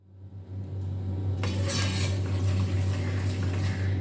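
Blended tomato paste from three tomatoes is poured into a cooking pan and stirred for a potato and pea curry, giving a rising sizzle and scraping clatter of metal on the pan.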